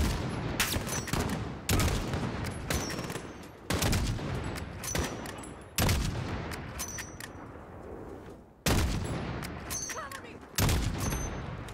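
Mortar fire in Call of Duty: Modern Warfare on the Highway of Death lands as a series of sharp, loud blasts about every two seconds, each trailing into rumbling debris and distant gunfire.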